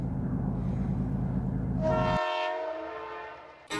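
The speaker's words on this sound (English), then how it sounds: "watching the train that we needed from yesterday roll on by" A freight train rolls by in open country, its heavy low rumble giving way to a loud, steady horn blast that holds for a couple of seconds and then fades, with no voices.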